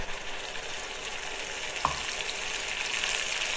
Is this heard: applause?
no